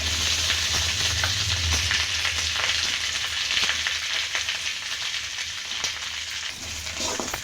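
Sliced onions for a kuzhambu (curry) fry in a pan with a continuous close sizzle and occasional stirring clicks, no voices.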